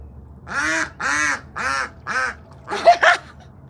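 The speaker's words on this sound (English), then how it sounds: "do whatever that duck says" A duck quacks four times in a steady rhythm, close and loud, followed by a quicker pair of rougher quacks.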